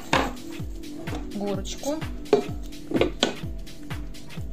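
A knife chopping food on a board while cooking pork stomach, a steady series of crisp close taps about three per second, with someone talking over it.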